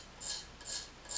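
Sandpaper sands a hydrostone plaster casting in three even back-and-forth rasping strokes, close and fairly quiet.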